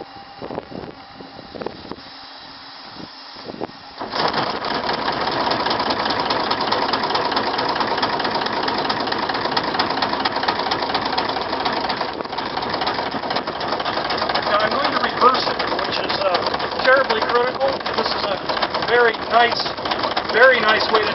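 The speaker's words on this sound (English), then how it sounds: "Okay, now I'm going to turn on the engine." A model steam boat engine running on compressed air on dry land starts up after a few seconds of quiet clicks, then chugs continuously with a rapid, steady mechanical rattle at close range.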